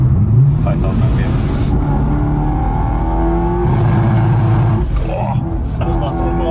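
BMW E90 M3 engine revved hard toward about 5,000 RPM, a loud continuous roar with rising harmonic sweeps, heard close under excited talk throughout.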